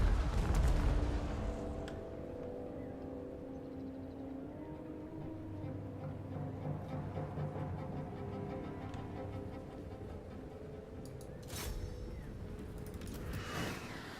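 Empire artillery in Total War: Warhammer 2 opens with a deep cannon boom, followed by low battlefield rumble and scattered distant impacts, with another sharp blast near the end.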